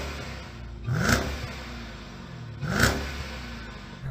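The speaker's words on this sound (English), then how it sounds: "Let's have a listen to the Jeep." A Jeep Grand Cherokee Trackhawk SUV engine revs hard twice over a steady idle rumble, each burst rising sharply and then falling away, close and loud, with no talking.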